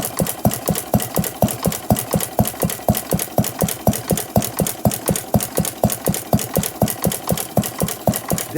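A 114-year-old non-gas engine that runs on fire, with battery and Model T coil ignition, chugs close by in a steady, even rhythm of sharp repeated beats, about three per second, with no talk.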